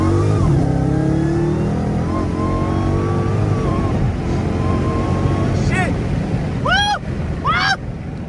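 A Dodge Hellcat Redeye engine roars under acceleration on a country track, a loud sustained rising drone with shifting pitch, ending with sharp whistling squeals near the close.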